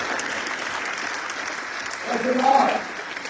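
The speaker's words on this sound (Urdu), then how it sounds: "ان کے لیے تالیاں بجائیں جو انہوں نے کیا ہے" An audience at a lawyers' convention in Islamabad claps for the ILF lawyers, with a moderate, steady wash of applause that swells briefly near the end.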